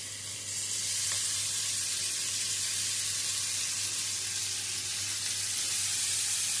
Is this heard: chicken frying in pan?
yes